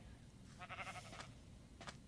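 A short sheep bleat in Minecraft, quiet and wavering, followed by a brief second call near the end.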